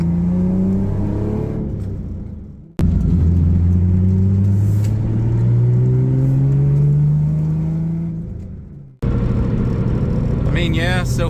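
A Mitsubishi Eclipse engine runs while driving after a power steering, serpentine and belt repair, rising and falling through gears with loud revving close by, cut by abrupt breaks, a voice talking over it.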